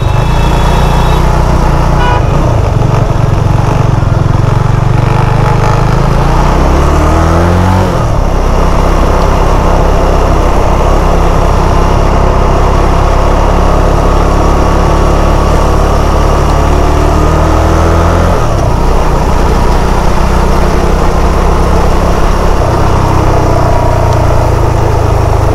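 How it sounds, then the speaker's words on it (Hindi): Cars and motorcycles are stuck in a dense traffic jam in Islamabad, Pakistan, on 15 August 2019. Engines drone and rev constantly, with repeated horn toots over a loud, unbroken street roar and no talking. "ट्रैफिक काफ़ी जैम है तो मेरा ख्याल है कहीं और चलते हैं"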